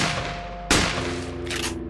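Gunfire in the NRA Gun Club shooting gallery video game: a loud sharp shot rings out and decays, followed by a second, quieter burst a moment later, with a low hum underneath.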